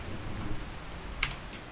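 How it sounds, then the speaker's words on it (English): Steady rain with a low thunder rumble in Fallout 4, a soft continuous wash of falling water at moderate level with a brief brighter splash near the end, no voices. "It's raining, so I'm soaking wet."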